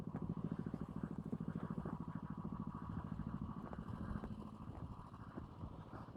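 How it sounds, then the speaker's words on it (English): An engine idles steadily while cooling down, a close, low, rhythmic chugging with even pulses that softens slightly toward the end. "While the engine's idling to cool itself down."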